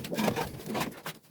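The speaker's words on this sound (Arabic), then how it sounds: "ده احسن جوز حمام زاجل عندي" Homing pigeons, a prized pair in a loft, give soft low cooing close by, a broad murmuring burble rising and falling across the moment.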